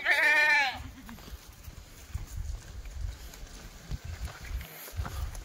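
A Kathiawari goat gives one loud, wavering bleat close by at the start, followed by quieter shuffling, hoof clatter and low rumbling from a truckload of goats.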